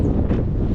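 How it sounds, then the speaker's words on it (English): Steady wind buffets the microphone at Hopedale Marina in the early morning, a low rumbling rush with no other sounds. "definitely breezy, really breezy this morning."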